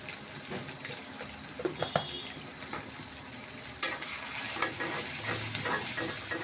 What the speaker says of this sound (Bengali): এখন দিয়ে দেবো একটু আদা রসুনের পেস্ট।